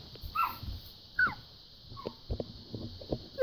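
Puppy whimpering in the video game Mario Party 2, a few faint high whines and yips scattered among soft thumps and clicks.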